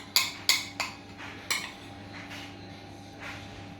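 Dishes being washed up in a home kitchen, with a few sharp clinks of plates and cutlery early on, then softer scattered clatter fading into a quiet background hum.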